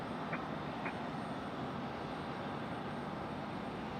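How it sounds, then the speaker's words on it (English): An American Airlines Boeing 737 at Raleigh-Durham International Airport, a steady broadband engine roar that fills the clip at even loudness, distant and continuous with no talk. "next, got American Airlines 737."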